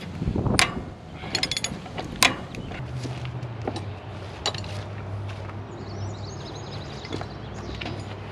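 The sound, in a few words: wrench ratcheting on large bolts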